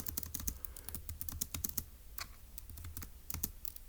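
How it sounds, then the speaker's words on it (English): Rapid, steady typing on a computer keyboard while notes for a logic puzzle are entered, dense close key clicks in quick bursts with short pauses, no speech over it. "So let's go ahead and type that up in our notes for section B."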